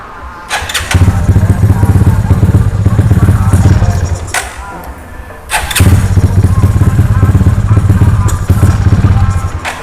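A manual-start motorcycle engine fires up loud and close, rumbling steadily for several seconds, cutting out briefly with a thump, then catching again and running on.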